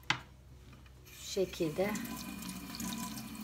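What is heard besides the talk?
washing foraged thyme under running water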